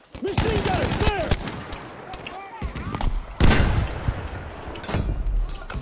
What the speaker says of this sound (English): Machine gun, there!